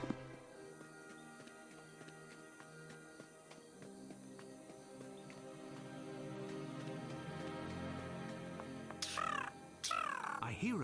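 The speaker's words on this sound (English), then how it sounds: "I hear a bird, Holmes." A crow caws repeatedly in a Sherlock Holmes adventure game, with several sharp, loud calls near the end over a bed of game music and ambient tones, no talk.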